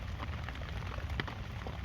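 Rain patters steadily on a tent at a homeless camp, a soft, dense drumming with a few sharper drops standing out, quiet and unbroken.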